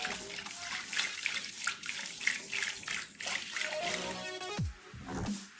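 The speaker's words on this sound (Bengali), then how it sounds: "এবার আরেকটু জল ঢেলে দিচ্ছি বেশি করে।" Water poured into a sattu drink, a continuous gurgling splash with a rising filling pitch that pauses and resumes near the end, close and fairly quiet, with no talking.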